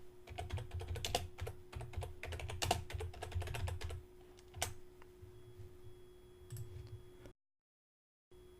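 Quick, light keystrokes clatter on a computer keyboard in irregular bursts while a web search is typed, trailing off into a few isolated taps before silence, close and quiet.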